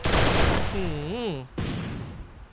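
MP40 submachine gun firing in Free Fire, rapid bursts of gunshots, loud and close, with someone talking excitedly and a brief pitched voice in the middle.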